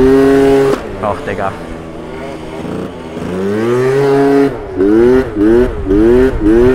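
A Yamaha Aerox 70cc scooter engine revs in wavering bursts, rising and falling in pitch, with someone speaking briefly over it.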